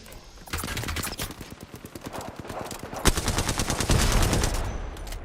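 Rapid video-game gunfire, dense automatic bursts rattling close and loud almost throughout, with one sharper crack partway and the firing intensifying toward the end.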